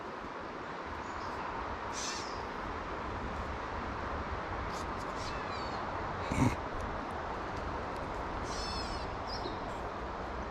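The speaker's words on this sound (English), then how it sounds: "Bird sounds like he's having a hell of a day." A bird calls repeatedly by a river on a late-spring fishing trip. Short, fairly distant calls cut in now and then over a steady rush of flowing water.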